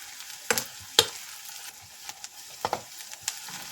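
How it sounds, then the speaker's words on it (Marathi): Onion sautés in a pan while being stirred, giving a soft steady sizzle broken by several sharp scraping strokes of a spoon against the pan. "चला थोडा कांदा परतून देऊ आपण"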